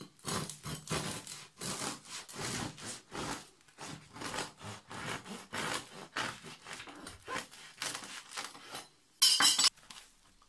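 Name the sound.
bread crust crackling when cut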